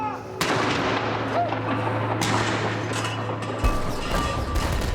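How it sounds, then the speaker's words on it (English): Cannon fire at the Tower of London: heavy booming blasts with a rolling, rumbling sustain, loud and dense, several sharp onsets overlapping across the stretch. "the thunder of the Tower's cannon sounds all around her."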